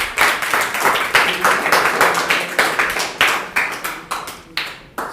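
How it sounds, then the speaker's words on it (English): A small group claps after students' English speaking activity on the importance of education, producing a series of short bursts of applause that swell and fade repeatedly, fairly close and loud. "please clap for everyone."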